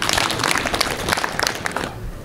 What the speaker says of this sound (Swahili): Naomba mjipigie makofi kwa kuwa wazalishaji wazuri.